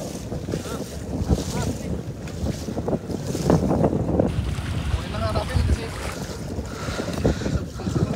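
Strong wind buffeting a small fishing boat at sea in cold winter weather, a loud roaring rush over the microphone with surging gusts and water movement, and voices talking faintly underneath.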